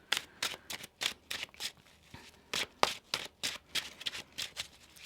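A tarot card deck is shuffled by hand in a quick run of crisp riffles and taps, about a dozen close sharp bursts in an uneven rhythm with short pauses between them.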